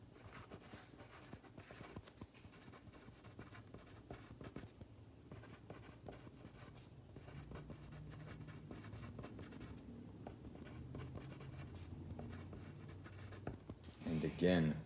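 Pencil or pen scratching steadily across paper in a classroom, a continuous faint scribbling texture with a teacher's voice talking over it and a louder rustle near the end.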